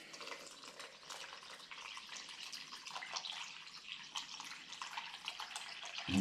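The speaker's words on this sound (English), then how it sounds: "350 grams of nice warm water" Tepid water pours steadily from a tap into a container for bread dough, a continuous close hiss and splash that runs unbroken, with a sudden louder clunk at the very end.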